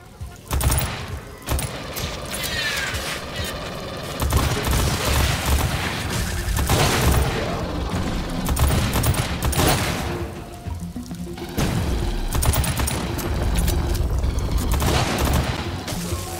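Video game gunfire in Aliens Fireteam Elite, with dense bursts of rapid automatic shots and heavy impacts repeating in loud volleys, separated by brief lulls.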